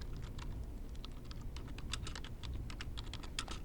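Rapid keystrokes on a computer keyboard as a file name is typed, a steady run of close, crisp clicks over a low background hum with no talking.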